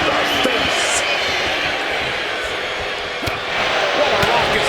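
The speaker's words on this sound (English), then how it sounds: "What a raucous crowd here tonight." Raucous wrestling crowd filling an arena during a tag-team match, a constant loud roar of cheering with a commentator talking over it.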